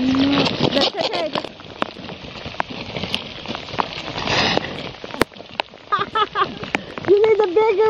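Freezing rain of ice and water patters and clatters steadily on surfaces during a snowstorm, close and continuous, while people talk over it.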